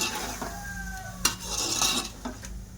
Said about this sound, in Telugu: కొంచెం మెల్లగా ఫ్రై చేసుకోండి